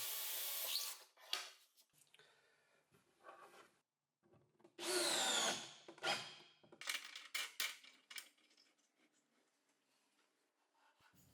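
A drill bit marks hole positions in wood for threaded inserts on a hanging miter saw station, with several short, separate bursts of close scraping and rubbing and quiet pauses between them.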